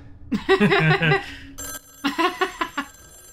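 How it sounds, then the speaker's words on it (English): A telephone rings with a long ringtone, repeated bursts of bright ringing in two clear sequences separated by a short pause, loud and close. "Someone get that phone. I know, it's bothering me. That's a long ringtone."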